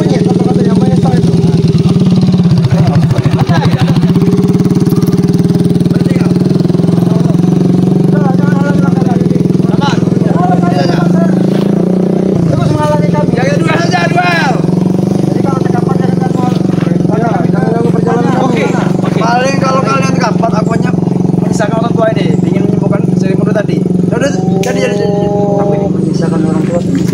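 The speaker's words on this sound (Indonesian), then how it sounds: "Ini banyak motor loh." Several motorcycle engines idle and rev in a crowd, a loud continuous drone with bursts of throttle, while many people shout and talk over the noise throughout.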